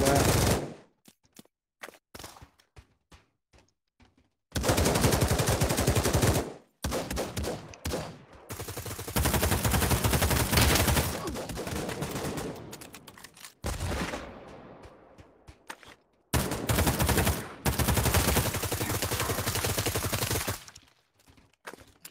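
Automatic gunfire from the VR shooter Pavlov played on an Oculus Quest 2, loud sustained bursts of rapid shots separated by short pauses, repeated several times with brief quieter gaps.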